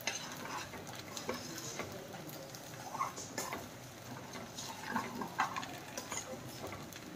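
Ghee made from butter heats in a pan while a spoon stirs it again and again, producing soft, quiet scraping and faint bubbling sizzle throughout.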